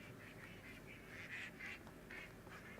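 Virtual ducks quacking in the video game Medieval Dynasty, a few faint, nasal calls in loose bursts over a soft ambient background, with no talk over them.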